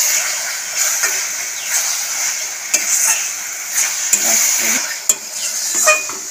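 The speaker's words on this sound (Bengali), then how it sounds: "নাড়িয়ে নিলাম একটু" Tomato and date chutney, Bengali style, stirred in a pan: a soft continuous sizzle with spoon scrapes and sharp clinks against the metal at irregular intervals, close by and without talk.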